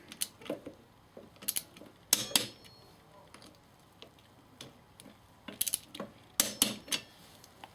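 A torque wrench ratchets and clicks on the caliper pins of a Triumph Trophy rear brake, tightened to 18, with scattered short metallic ticks and bursts up close and no talk.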